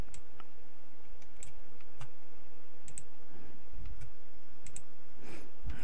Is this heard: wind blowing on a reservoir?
no